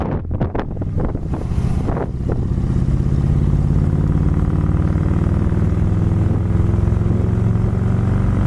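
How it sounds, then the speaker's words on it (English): A few sharp clicks at the start, then the dual exhaust of a 1963 Mercury convertible with a 390 engine settles into a loud, steady low rumble with wind buffeting the microphone. "It's got nice sounding dual exhaust too."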